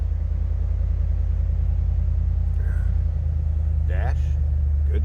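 A 2007 Ford Mustang Roush Stage 3 convertible with a five-speed manual idles steadily, a deep continuous rumble close by, with brief faint higher sounds near the end.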